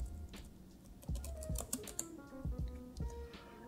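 Computer keyboard keys pressed while a command is entered, a quick run of distinct, fairly close clicks and taps with short gaps, no voices.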